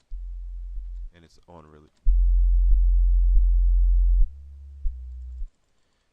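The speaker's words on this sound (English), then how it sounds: "Now, that got our sub square bass set." Filtered sub square-wave bass synth in FL Studio, deep low held notes with the highs cut away, playing in loud sustained blocks, with a brief spoken phrase between the notes.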